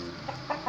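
A chicken gives a few quick, soft clucks, three short calls within a moment, close by over faint background noise.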